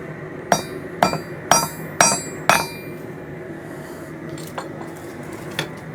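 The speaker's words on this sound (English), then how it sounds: "we're gonna hammer that down on there" A hammer strikes a metal raccoon trap part five times in an even rhythm, each blow a sharp metallic ring, followed by a couple of fainter clinks; nearby and loud.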